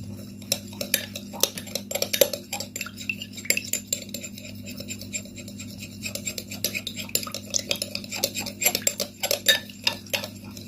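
Store-bought aloe vera gel is stirred and scraped in a bowl, a close, irregular run of soft rasping and clinking strokes that continues for several seconds over a low steady hum.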